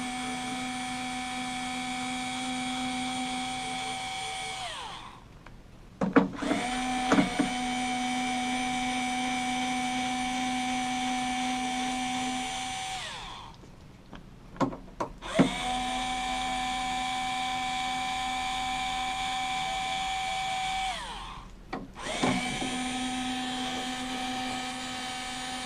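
Three long, steady whines of a power driver as socket head cap screws are taken out of the feet, each cut by sharp clicks and clunks.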